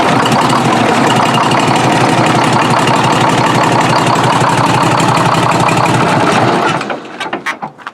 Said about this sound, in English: Fuel is always up in the injectors, ready to fire as soon as the starter cranks.